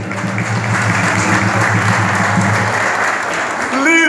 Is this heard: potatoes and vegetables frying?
no